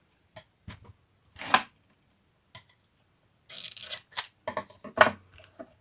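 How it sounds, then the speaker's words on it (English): Adhesive tape pulled from a roll in short tearing bursts and pressed down onto a craft piece, with a few scattered crinkles and rips, fairly close, quiet gaps between. "Just going to stick a tape on it."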